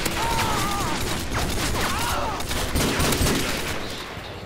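Rapid, continuous gunfire from the Death Machine, a heavy rotary gun in a Modern Warfare 2 zombies mod (IW4M), rattling loudly throughout with bursts overlapping, and voices talking underneath.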